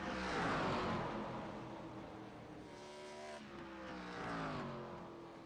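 Stock cars in a NASCAR throwback race at Nashville Fairgrounds in iRacing roar past close together, several engines revving and droning at high pitch, swelling and fading as the pack passes, with no talk over them.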